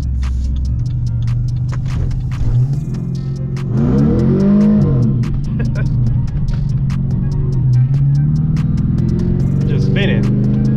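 A Pontiac G8 GT with high mileage accelerates with its wheels spinning, engine revving and rising in pitch over several seconds as tires squeal, heard from inside the car with a voice talking over it.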